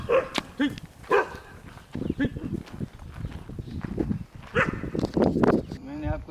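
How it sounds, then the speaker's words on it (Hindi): Several dogs bark at visitors on a bungalow property, scattered yaps and woofs coming in bursts at moderate distance, mixed with people talking throughout. "इतने सारे जो है ना वो भौंक रहे हैं"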